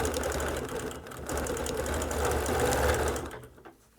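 A sewing machine runs steadily through free-motion quilting of hearts and swirls, a continuous close whir with brief slowdowns near one second and a drop-off in the last half second.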